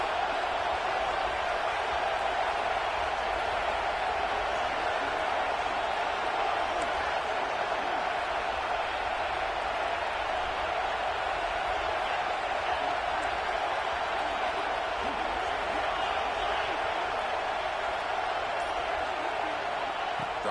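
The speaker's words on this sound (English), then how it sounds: "this home crowd is fired up and ready to make a difference today" Home stadium crowd in an NCAA 26 college football video game, Wisconsin at UCLA, a steady roaring wash of cheering that holds at a constant level throughout.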